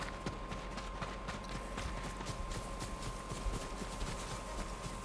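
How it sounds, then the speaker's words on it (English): Horses approaching in Ghost of Tsushima, a steady run of hoof clip-clops with faint creaking gear, moderately distant and low in level, continuing evenly throughout. "Horses, they're coming for us."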